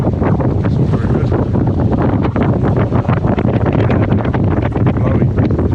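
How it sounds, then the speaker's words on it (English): Strong wind roars and buffets the microphone aboard a small sailboat under reduced sail during a solo passage, loud, gusty and continuous throughout. "Blowy, fairly blowy."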